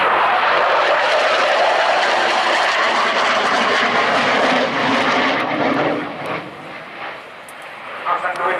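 A Mikoyan MiG-29A jet roars loudly during a flying display at RIAT, its engine noise steady and broad before easing off toward the end, with a commentator talking over it.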